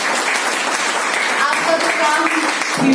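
Audience applause at a new distributor training session, a steady wash of many hands clapping that holds for about three seconds with a faint voice running underneath.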